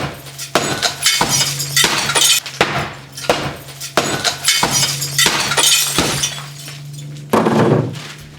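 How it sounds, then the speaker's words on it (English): A hammer strikes Krasiva SafeGuard laminated window glass over and over, each loud crunching blow followed by a brief rattle, about a dozen hits in quick succession without the pane giving way. "Not even a hammer punched a hole in this glass."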